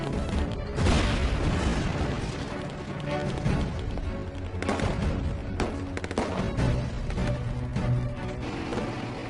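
A tank's main gun firing at a machine gun pillbox on a Normandy beach in a video game, heard as heavy booming blasts and crashes over a dense roar of battle noise.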